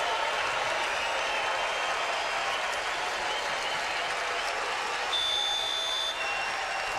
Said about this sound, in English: Standing ovation from this crowd.